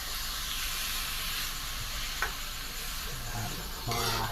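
Pork belly sizzles and fries in a pan for Bicol Express, a steady bright hiss with occasional stirring scrapes and a clink near the end.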